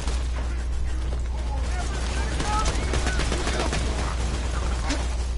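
Rapid gunfire in the Borderlands video game, a busy stream of shots and mechanical clatter over a constant low hum, with game sounds layered through it.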